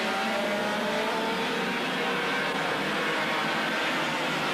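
Racing kart engines at a 1992 European karting race, close together in a slipstreaming battle, make a dense, loud, continuous high-pitched buzz that holds steady throughout.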